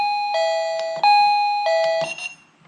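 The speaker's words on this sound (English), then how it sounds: "when it does that double beep noise, that means it's already at the max volume" A Secrui wireless doorbell sounds a series of bright, ringing beeps, two close pairs with short gaps, clear and fairly loud with no talking.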